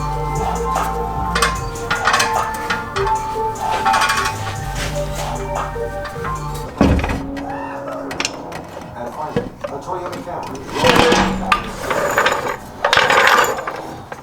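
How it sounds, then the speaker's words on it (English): Removing the transmission from a BMW E36 with a jack, heard as a run of metallic clanks, ratcheting and scraping, with gear-like rattles and intermittent knocks that continue irregularly, close and moderately loud throughout. "That was the worst transmission pull I've ever done in my life."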